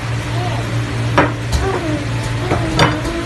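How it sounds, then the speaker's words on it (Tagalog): Squid adobo sizzles loudly in a hot pan while a spatula stirs it, with scraping strokes and clinks rising over the constant frying hiss. "Tapos, haluin muna natin para maano po yung lasa."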